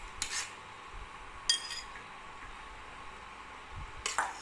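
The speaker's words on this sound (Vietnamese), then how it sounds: "Nó quậy như vậy ra mình kêu kẹt kẹt kẹt kẹt." A spoon stirring a thickening grass jelly mixture in a pot gives quiet scrapes and a few sharp clinks against the metal, spaced irregularly, with no speech.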